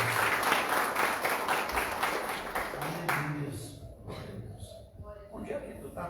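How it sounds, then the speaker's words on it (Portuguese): A church congregation claps together at an evening service, a dense burst of applause that fades after about three seconds into a preacher's voice speaking. "Vamos aplaudir a Deus nesta noite."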